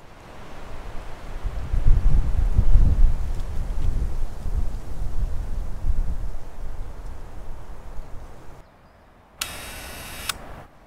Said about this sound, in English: Nope, too much wind.